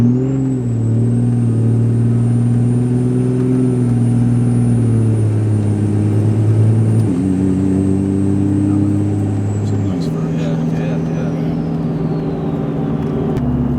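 Ram 2500 pickup with a rebuilt 68RFE automatic transmission pulls along under load, its engine droning loud and close, with the pitch stepping down and shifting at each gear change and a brief clunk on a downshift.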